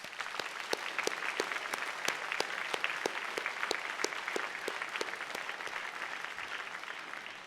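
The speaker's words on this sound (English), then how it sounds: "I think they deserve a round of applause." Audience applause at a college convocation ceremony, steady dense clapping from a crowd with sharp individual claps standing out, sustained and even throughout with no voices.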